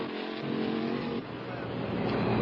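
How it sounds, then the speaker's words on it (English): Stock cars in the 1977 Winston 500 roll behind the pace car, a broad engine drone that holds steady, dips briefly and swells again, heard at moderate distance with a commentator talking over it. "Pace car bringing the field around."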